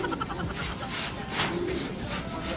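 A racing pigeon coos softly in a low, rolling rhythm amid steady outdoor noise in Bauang, La Union, the calls repeating a few times.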